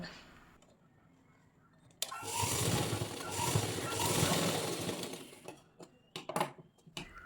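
A sewing machine stitches elastic onto pants, running in a steady buzzing burst for about three seconds, then dropping to a few short stitches and clicks near the end, close by.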